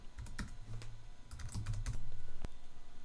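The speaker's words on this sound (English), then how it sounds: "we can simply do that by typing" Keys clack on a computer keyboard in short irregular bursts, close and fairly quiet, with a few sharper single key strikes and no voices.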